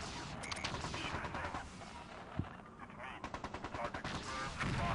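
Mech weapons in MechCommander 2 fire in rapid bursts of crackling shots and explosions, dense and repeated through the stretch, with a sharp thump midway.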